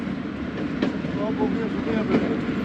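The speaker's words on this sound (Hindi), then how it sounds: "ये रहा दोस्तों AG30 और स्क्रैप गुड्स ट्रेन थी, कंटेनर ट्रेन।" A container and scrap goods train passing near Changa Manga in Pakistan, heard as a steady dense rumble of rolling wagons with faint wheel clatter and squeal, continuous and fairly close, with no talk over it.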